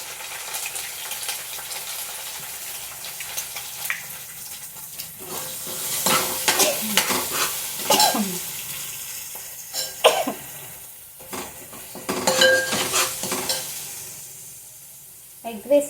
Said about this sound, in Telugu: అల్లం వెల్లుల్లి పేస్ట్ వేసిన తర్వాత ఒక ఎగ్ వేస్తున్నాను ఫ్రెండ్స్.